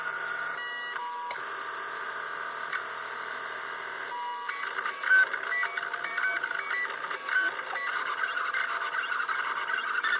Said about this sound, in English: Let's get them printing.